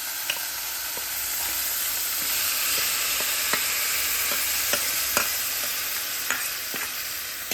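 A spoon stirs paneer curry paste in a kadai over a steady, close sizzle, with a run of sharp metallic taps and scrapes spaced irregularly throughout.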